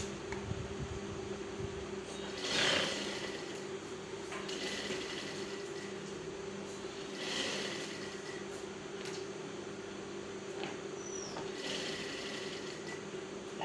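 A sewing machine topstitches fabric with a steady, quiet mechanical whir and faint rhythmic clatter, with a few brief swells, running alone without speech.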